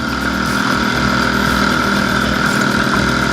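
An IZh Planeta 5 motorcycle engine labors in first gear while riding slowly on a rough, potholed road, a loud, steady, close thrumming drone with a rough mechanical buzz throughout.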